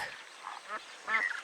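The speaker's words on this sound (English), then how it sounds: "This bird is called a duck." A duck quacks in two short nasal bursts, fairly close and moderately loud, with no talking over it.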